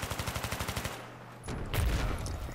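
Gunfire in the video game Battlefield 3: a rapid, evenly spaced burst of automatic shots, then a brief pause and another loud, dense volley of shooting.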